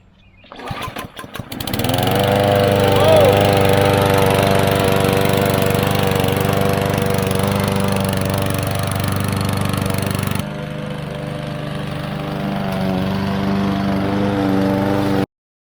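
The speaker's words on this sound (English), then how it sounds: "I bought this PowerSmart lawn mower." A PowerSmart DB8621PR 21-inch walk-behind gas lawn mower with a 170cc OHV engine starts after a few pulls and then runs at a loud, steady drone that drops slightly in level partway through.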